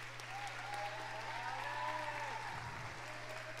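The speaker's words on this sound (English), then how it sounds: "If you can give him a big round of applause." Audience applause at a spring concert, a steady soft wash of many hands clapping, somewhat distant, over a constant low electrical hum.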